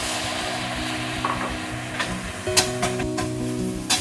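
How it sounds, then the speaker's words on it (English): A spatula stirs minced pork and green beans through a hot sizzling pan, a steady frying hiss with a few sharp scraping clicks toward the end, close and clear with no talking. "Give it a good stir."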